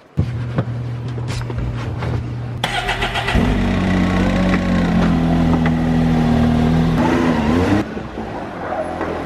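A car engine with big exhaust headers, rated around 340 horsepower, roars loudly and steadily close by, its deep sustained rumble rising and holding for several seconds before easing off near the end.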